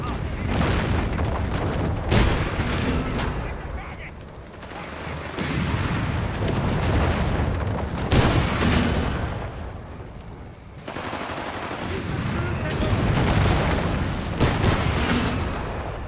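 Artillery and gunfire in the WWII strategy game Company of Heroes 3 in North Africa, booming barrages and rattling shots in loud repeated waves, with in-game unit voices calling out.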